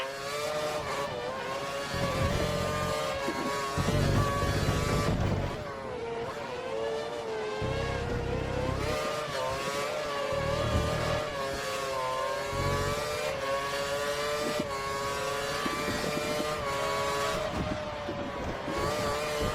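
Formula 1 car engines in the F1 2013 racing game at the Nürburgring, a steady high-pitched whine that rises and falls with gear changes and throttle, loud and continuous throughout with no voices.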